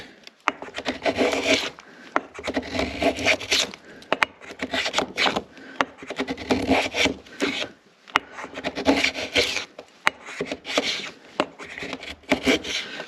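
A Lee Valley palm plane shaving thin, even curls from a wooden workpiece, repeated rhythmic rasping strokes close up, each pass a scratchy whoosh separated by brief pauses, with no talking.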